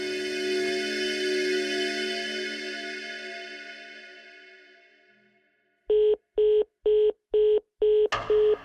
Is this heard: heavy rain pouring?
no